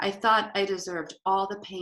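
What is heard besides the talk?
None of the usual background noises is heard.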